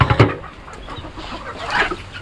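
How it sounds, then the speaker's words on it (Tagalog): Chickens, some of them young and small, cluck in short bursts from close by. A loud burst opens the sound and scattered softer clucks follow, with no one talking. "ang dami na nating manok"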